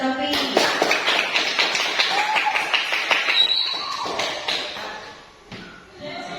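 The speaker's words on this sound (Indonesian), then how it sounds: "tepuk tangan untuk Novi" A small audience in a classroom claps for a student, with distinct, sharp hand claps in an uneven rhythm, nearby and fairly loud, that thin out and stop toward the end.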